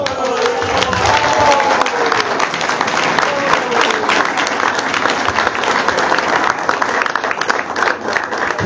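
Audience applause after a speech about Africans daring to be themselves, dense sustained clapping from a large crowd filling the whole stretch at steady loudness, with faint voices and a murmur mixed in.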